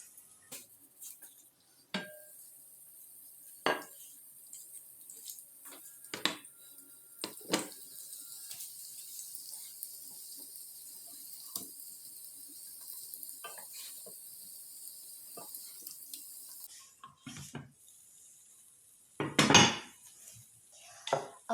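Syrniki (cottage cheese pancakes) cook on low heat in a lidded pan, giving a faint steady sizzle with scattered light clinks of pan and lid and a louder clatter near the end.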